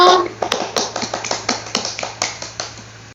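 A group of elementary school pupils claps together in a classroom, about a dozen evenly spaced, sharp claps in a steady rhythm that slowly fades, over a low electrical hum.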